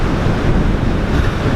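Strong wind buffets the microphone on a beach at Galveston, a loud, constant roaring rush with no voices.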